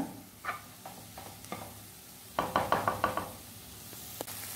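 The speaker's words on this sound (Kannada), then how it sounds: "ಎಲ್ಲವನ್ನು ಮಿಕ್ಸ್ ಮಾಡಿ ಫ್ರೈ ಮಾಡಿಕೊಳ್ಬೇಕು. ಅಂದರೆ ಮೊಟ್ಟೆ ಬೇಯಬೇಕು." Eggs and rice are stirred and fried together in a pan for chicken fried rice: quiet scattered knocks of a utensil against the pan, including a quick rhythmic run of taps, over a faint sizzle.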